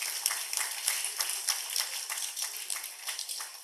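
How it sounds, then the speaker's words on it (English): An audience at a conference inaugural session applauds a chief guest, with thin, somewhat distant clapping from a modest crowd in a steady, slightly uneven rhythm. "Give a big round of applause,"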